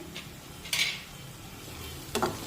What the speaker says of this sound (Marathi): हा सर्व मसाला अगदी व्यवस्थित परतून घेणं खूप महत्वाचं आहे